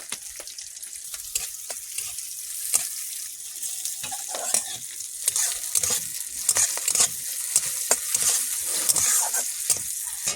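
Snakehead fish frying in oil in a pan, with a continuous close sizzle broken by repeated spatula scrapes and crackling pops, with no talking.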